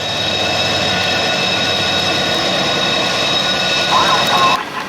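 A Norfolk Southern freight train, 63V, passes close by at Horseshoe Curve with a loud, steady engine drone and tonal whine that cuts off abruptly near the end.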